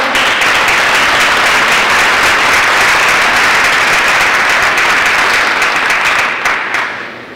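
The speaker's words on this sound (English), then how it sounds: "thank you for applauding for that" Loud, dense applause from a large audience at a Lima Senior High School class of 2021 convocation, sustained for several seconds for scholarship award winners before tapering off at the end.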